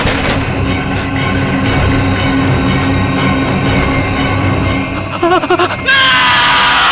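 A man screams in fear inside a tense drama scene, a long, loud, strained cry held against a dense, roaring backdrop that breaks off near the end, followed by a higher, shriller sound.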